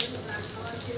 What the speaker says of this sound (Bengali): তেল দিয়ে পেঁয়াজ কুচিগুলো ভালোভাবে ভেজে নিই।